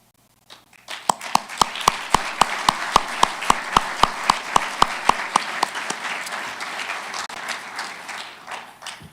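At an award ceremony, loud near claps start in an even, rhythmic beat. They grow into dense, sustained crowd applause that tapers off gradually.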